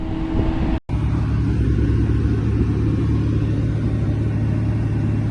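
A Dodge Hellcat Widebody on freshly fitted tires doing donuts, its engine producing a loud, sustained, rumbling roar close by, broken by one brief cut-out near the start before the steady growl resumes.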